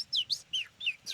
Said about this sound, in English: Naveed, how about cartoonic bird sound at the end?